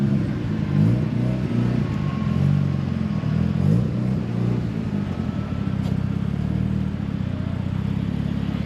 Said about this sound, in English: you guys can hear the car